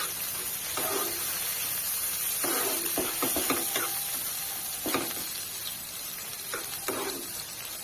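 Fish air bladder (tel potka) fries in oil with a constant loud hiss, broken by scattered stirring scrapes and clatters of a utensil in the pan, heard close with no speech.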